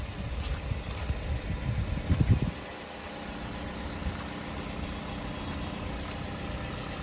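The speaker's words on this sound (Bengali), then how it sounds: "এই যে দেখেন শুনেন ইঞ্জিনের সাউন্ডটা।" A 2019 Toyota Yaris engine idles with a low, steady hum and a brief rougher surge near the start before settling into an even, quiet idle.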